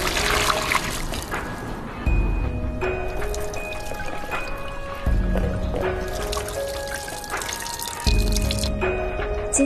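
Water pours and trickles in repeated bursts as washed, air-dried safflower petals are tipped into plant-ash water to soak, a close, splashy flow with drips between pours.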